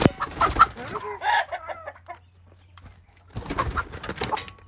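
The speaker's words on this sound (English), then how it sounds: "Chicken freaking out." Chickens in a coop clucking and squawking in agitated bursts, with a brief flurry of flapping, close by and fairly loud, separated by a quieter pause.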